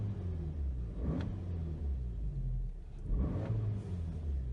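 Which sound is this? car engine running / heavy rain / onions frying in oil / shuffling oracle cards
car engine running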